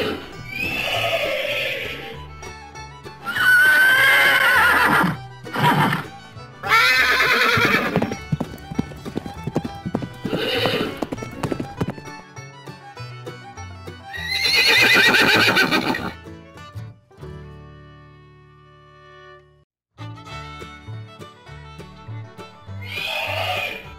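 Horses whinny in several loud, drawn-out neighs between gaps, with close hoofbeats clip-clopping in a steady rhythm during parts of the recording.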